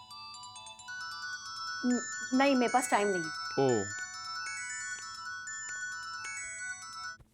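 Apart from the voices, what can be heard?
phone ringtone for an incoming call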